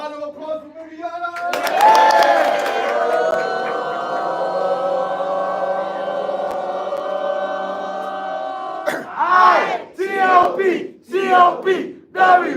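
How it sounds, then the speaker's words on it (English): A live crowd roars and cheers loudly for a woman named Viviana, sustained whoops and shouts filling several seconds before giving way to a voice talking near the mic. "Round of applause for Viviana."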